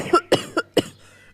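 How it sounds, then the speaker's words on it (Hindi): Four sharp coughs in quick succession from a cartoon pigeon after drinking bitter water, close and loud, followed by a brief quiet tail. "कबूतर जैसे ही टूटी से पानी डालकर पीता है, वो खांसने लगता है"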